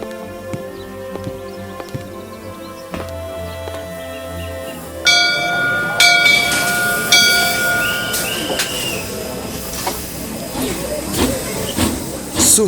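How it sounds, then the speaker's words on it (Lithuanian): An early steam train in an animated film slowly pulls away: a sudden rush of hissing steam and heavy mechanical noise rises over ringing, bell-like music tones and continues loudly to the end. "Sunkiai išjudėdamas iš vietos, traukinys vėl leidosi į kelią."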